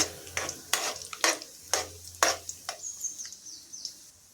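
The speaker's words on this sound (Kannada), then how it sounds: "ಇದಕ್ಕೆ ಸಾಸಿವೆ ಮತ್ತು ಜೀರಿಗೆನ ಸೇರಿಸಿ ಹುರ್ಕೋಬೇಕಾಗುತ್ತೆ ಇದರ ಜೊತೆಗೇ ಉದ್ದಿನಬೇಳೆನ ಸೇರಿಸಿ ಇದು ಕೆಂಪುಗಾಗೋವರೆಗೂ ಹುರ್ಕೋತಾ ಇದ್ದೀನಿ" Mustard seeds, cumin and urad dal fry in oil under a spatula. Sharp scraping strokes repeat in an uneven rhythm over a faint crackle, and a thin chirp rises near the end.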